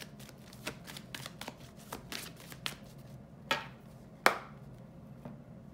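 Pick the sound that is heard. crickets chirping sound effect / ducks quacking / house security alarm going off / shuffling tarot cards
shuffling tarot cards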